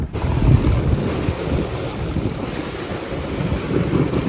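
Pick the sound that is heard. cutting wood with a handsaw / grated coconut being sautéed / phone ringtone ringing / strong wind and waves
strong wind and waves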